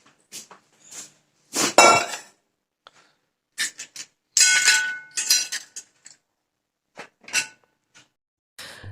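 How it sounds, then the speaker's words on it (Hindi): Dishes and pots clink and clatter as a kitchen pot is picked up for cut carrots, a series of short bright knocks and rattles in irregular bursts, fairly close, with no talking. "उसके बाद मैं कोई बर्तन ले लेती हूँ जिसमें मुझे कट करके रखनी है गाजर को"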